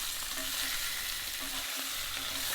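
Bone-in veal sears in a cocotte pot with a steady, dense sizzle and frying hiss that continues without a break and stays close and fairly loud, with no voices.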